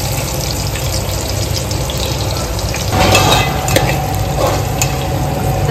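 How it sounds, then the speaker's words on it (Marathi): Onion fries in a pan with a loud, continuous sizzle, and a few stirring scrapes come through partway into the frying, up close with no voices. "कांदा आपला आता फ्राय होऊन द्यायचा"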